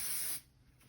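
A short, sharp hiss of aerosol hairspray, lasting about a third of a second before cutting off to near silence.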